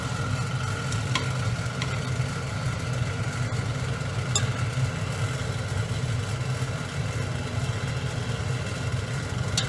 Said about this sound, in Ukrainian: ми беремо ложечку і створюємо в кастрюлі ось таку воронку